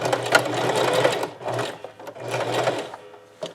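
Sewing machine set to zigzag back-stitching a thermal camo shirt, running in two close, whirring bursts separated by a brief pause.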